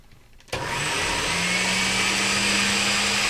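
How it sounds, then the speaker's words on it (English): A blender kicks on suddenly and runs continuously, pureeing carrot soup with a loud, steady motorized whir and churning rumble close by, no voices over it. "we're just going to keep on at it until we've got it all blended"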